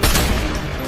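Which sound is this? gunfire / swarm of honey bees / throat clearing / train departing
gunfire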